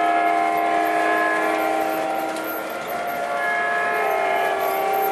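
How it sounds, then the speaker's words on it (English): Two model train engines running as a lash-up under DCS Commander control sound their whistles together, a loud sustained steady tone with layered pitches lasting the whole stretch, close and without talk. "If you listen, you can actually hear both of the whistles going."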